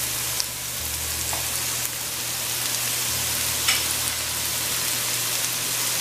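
Karela sizzles in a frying pan along with onion and green onion, a steady close crackle with a couple of soft utensil taps and a low background hum.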